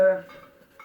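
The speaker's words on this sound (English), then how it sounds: "This is my little tin cup, which I use for boiling water and making a little bit of food" A small metal tin cup used for boiling water clinks once when it is handled, giving a bright ringing tone that fades quickly, with faint rustling after it.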